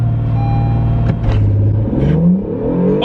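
An Acura NSX launches hard in launch mode with the pedal floored, its engine revving up loud and close with rising pitch sweeps and no gear shifts, a brief whoosh midway.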